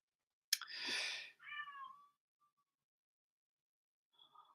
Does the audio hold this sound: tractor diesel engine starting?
no